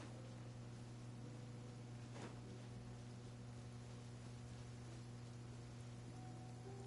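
Rain falls steadily in a video game, a soft even hiss of droplets with a faint constant hum beneath and a brief swell of noise partway through, quiet and unbroken with no voices.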